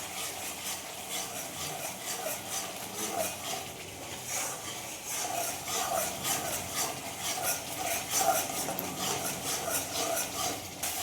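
Spice paste for a paneer dish being sautéed and stirred in a pan, with steady scraping and rubbing strokes in a repeating rhythm over a continuous soft sizzle, close up and with no voices.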